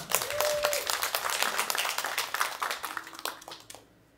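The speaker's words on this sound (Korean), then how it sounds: "큰 박수로 모시겠습니다" Applause from a symposium audience welcoming a speaker to the stage, dense clapping throughout that thins and fades away near the end.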